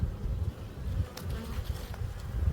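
Honey bees buzzing at an open hive in spring while brood frames are inspected, a steady close swarm drone with a few louder passes near the microphone.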